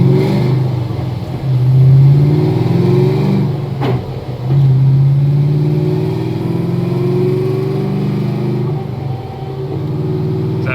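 A supercharged Ford Mustang GT (S197) engine heard from inside the car on a ride, a steady loud drone rising and falling as the revs climb, ease off and build again, with no voices.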